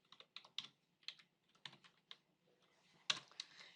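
Steady typing on a computer keyboard while entering CSS code, a close run of crisp key taps in short bursts with brief pauses and one louder clack near the end, no talking.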